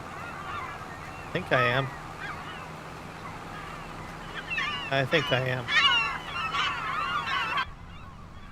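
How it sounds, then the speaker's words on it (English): Gulls in a Farming Simulator 25 Western Australia wheat-harvest scene, loud honking cries arriving in a single burst and then a clustered flurry of calls, while a person talks quietly underneath. "Those gulls go a little loud."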